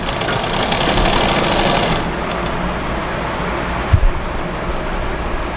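A sewing machine stitching a girl's frock runs as a loud, continuous mechanical whir for the whole stretch, easing slightly partway through, with a brief knock near the end.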